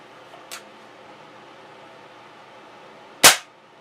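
A vintage Crosman 760 air rifle fires a hollow point pellet with a single sharp, loud crack near the end, after a soft click and a quiet room hum.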